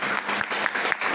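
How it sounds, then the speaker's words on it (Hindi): Brief burst of audience applause at a business seminar, a dense patter of clapping from a crowd, fairly loud and without speech. "क्या बात है, जोरदार तालियां।"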